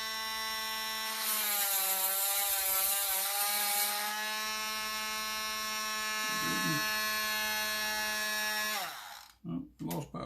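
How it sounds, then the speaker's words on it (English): A small high-pitched rotary tool whines steadily while reaming out a hole in a quahog clamshell earring, the tone wavering slightly under load, then spinning down abruptly as power cuts, followed by a few faint handling knocks. "Ream out the hole a little bit."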